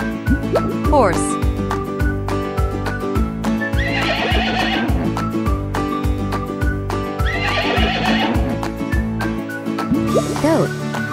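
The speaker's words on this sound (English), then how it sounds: "Horse." A horse neighs and whinnies twice over upbeat children's music, with a short rising call near the start and another at the end, as part of a farm animal sound quiz.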